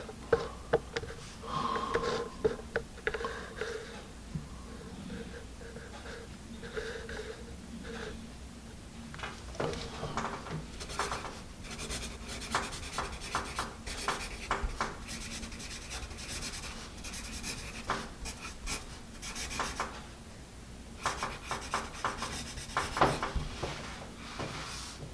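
A Dixon Style Fashion pencil scratches across paper in a long run of short, rough strokes, close and quiet, with uneven bursts of denser scribbling and no voices.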